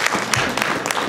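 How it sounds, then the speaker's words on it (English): A dense patch of applause from a conference audience at a criminal justice and mental health event, many hands clapping together in a steady, fairly loud wash with no talk over it. "give yourselves a round of applause"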